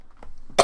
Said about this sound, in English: I am very sorry about my coughing.